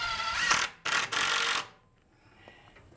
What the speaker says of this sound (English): So what I'll do is I'll just simply put a couple screws in here.